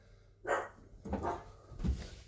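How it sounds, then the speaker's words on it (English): Household dogs barking at a delivery driver, heard from a home kitchen: three short, faint barks spaced about half a second apart, somewhat distant, with no talking. "Let me just quickly see what the dogs are barking at"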